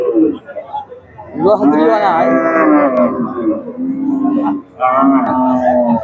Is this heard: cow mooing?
yes